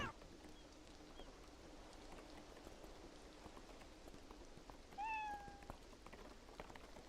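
A cat meows in the video game Beyond Eyes, a single short rising call heard faintly over a steady bed of rain and soft ambience.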